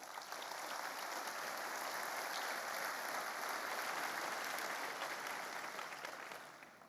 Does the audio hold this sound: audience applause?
yes